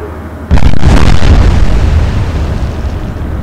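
Naval gunfire explosion in the warship game Atlantic Fleet, a sudden loud boom half a second in that rolls into a long rumbling decay, with no talk.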